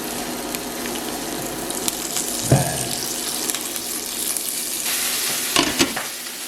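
Aubergine fries in oil in a pan with a steady sizzling hiss, broken by a few close clinks and scrapes of stirring, and no voices.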